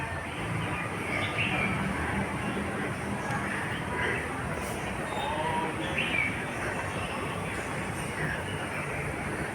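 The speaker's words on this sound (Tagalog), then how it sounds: "Maririnig mo yung huni ng mga birdie." Birds chirp and call in Hong Kong Park, scattered short tweets rising over a steady wash of outdoor background noise, with faint voices mixed in.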